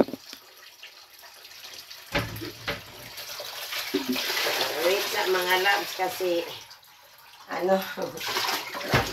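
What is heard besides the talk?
water running from tap into containers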